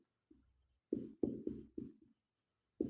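Chalk or marker strokes on a classroom board during a Class 10 maths lesson, a few short scratchy bursts in an irregular rhythm with quiet gaps between them.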